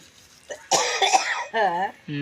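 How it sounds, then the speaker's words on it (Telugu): A single sharp cough erupts beside freshly ground homemade red chilli powder, followed by brief voiced sounds and someone speaking. "దగ్గు కూడా కలుపుతావేంటి"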